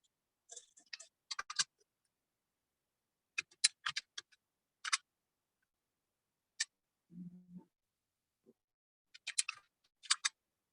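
Quiet bursts of computer keyboard typing, short clusters of crisp key clicks separated by pauses while commands are entered into a network configuration terminal, with one brief low murmur in between.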